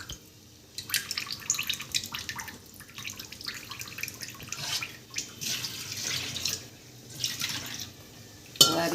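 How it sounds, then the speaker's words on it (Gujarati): Water drips and trickles from soaked poha draining in a perforated colander, with scattered splashy patters and small clinks close by, quiet gaps between bursts and a sharper knock at the end. "આ રીતે બધું પાણી નીતરી જશે."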